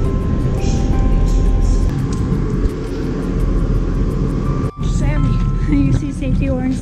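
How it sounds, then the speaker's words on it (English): Train pulling into a station on the route to Venice, Italy, a steady loud rumble with tonal hum and brief squeal-like tones, under continuous voices and platform noise. "So I see the train is coming in"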